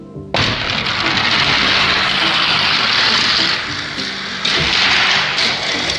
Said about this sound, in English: Oh, we got a collision, but the 81 gets it done.